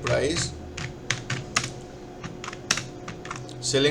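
A computer keyboard being typed on during a class computer practical, with uneven bursts of clicky keystrokes, close and clear, while a voice speaks at the start and end.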